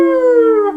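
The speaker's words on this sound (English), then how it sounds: "There are dogs all over this neighborhood howling right now." A dog in a neighborhood lets out a single loud, sustained howl that holds a steady pitch, then slides slightly down and fades.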